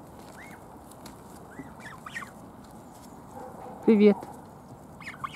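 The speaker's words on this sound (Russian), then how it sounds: "Какие красивые гуси." Geese honk nearby at a park mini-zoo in Kuzminki, Moscow, a few scattered calls and then a loud burst of honking, while a person says a brief word in Russian.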